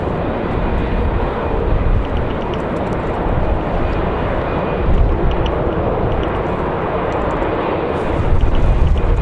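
An Embraer E175 jet aircraft at Raleigh Durham International airport roars steadily and loudly in windy conditions, a broad sustained engine rumble and rush with slight swells, no voices.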